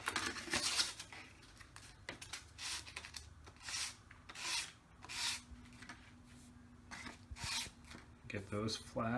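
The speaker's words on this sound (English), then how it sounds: "use sandpaper to get the edges of each of these" Sandpaper rubs the edges of small model rocket parts in short bursts of rasping strokes, close and fairly quiet, with a voice briefly heard at the end.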